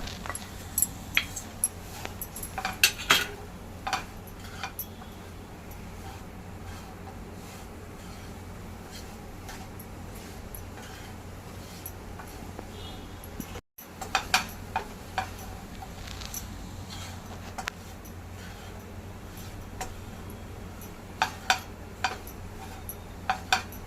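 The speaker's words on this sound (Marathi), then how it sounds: "मुळात हे बघा कसं मस्त भाजलं जात आहे खोबरं चांगलं परतून घ्या" Grated coconut is stirred and dry-roasted with jaggery over a low flame for a traditional Konkan coconut sweet. Scattered clicks and scrapes from the spatula in the pan sit over a steady low hum, with no talking.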